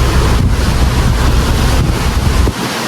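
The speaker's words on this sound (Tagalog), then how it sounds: "Grabe yung alon." Heavy sea waves and strong wind buffet the microphone aboard a ship, a loud continuous roar of wind and surf that drops slightly at the end.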